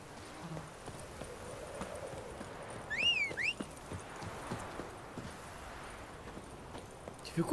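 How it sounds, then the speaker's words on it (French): Horse hooves clip-clop at a steady walking pace in The Witcher 3: Wild Hunt, moderately close and fairly soft, with a brief high whistling chirp partway through. "Tu fais quoi le cheval là?"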